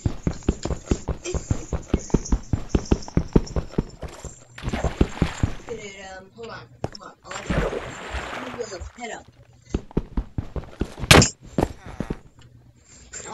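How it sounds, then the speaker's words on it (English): Video game horse walking, a rapid run of hoof clip-clops that thins out and recurs in irregular clusters, heard alongside people talking over much of it. "Oh, that's a horse."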